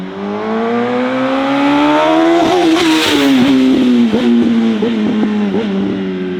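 A 2004 Yamaha R1 motorcycle accelerates hard on a road, its engine climbing loud and close through the revs, dropping at a gear change, then pulling again with rapid throttle pulses.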